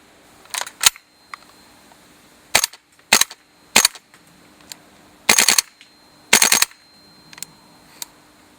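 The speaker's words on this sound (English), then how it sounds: "The blowback is strong and crisp on semi and full auto." A G&P CAR15 gas blowback airsoft rifle fires sharp, crisp snapping shots on green gas, first as single semi-auto shots, then as short full-auto bursts, with quiet gaps between them.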